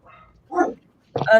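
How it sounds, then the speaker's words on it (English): Dog barking somewhere in the background of a home during a live cosplay chat, two short bursts of barks or yips at moderate volume with quiet between them. "Sorry if you guys can hear my dog in the background."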